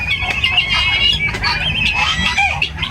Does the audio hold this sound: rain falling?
no